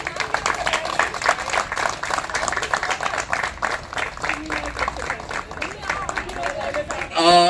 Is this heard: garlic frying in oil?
no